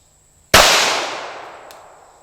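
A single loud shot from a Glock 21 Gen 4 pistol firing .45 ACP, a sharp close crack followed by a long fading echo over about a second and a half.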